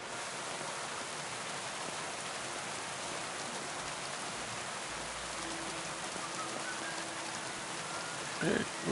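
Steady rain hiss in the video game Kingdom Come: Deliverance 2 fills the scene, even and continuous, with a faint tonal hum partway through and a short louder rustle at the end.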